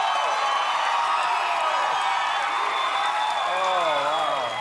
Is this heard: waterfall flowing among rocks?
no